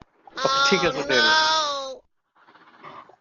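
A person imitates a goat's bleat with one loud, wavering, nasal call lasting about a second and a half, followed by brief talking.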